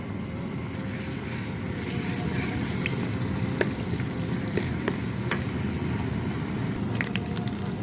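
Garlic ginger paste sizzles steadily in hot oil in a home kitchen pan, a dense continuous crackle with occasional sharper pops, heard alone with no talk.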